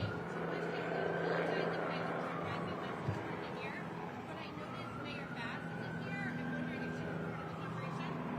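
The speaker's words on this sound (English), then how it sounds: "Whose helicopter is that? Tell them to back up a little bit." A helicopter drones overhead at an outdoor press event on a federal drug bust in Los Angeles, a steady rotor rumble with a slowly sweeping pitch that persists under continuous speech.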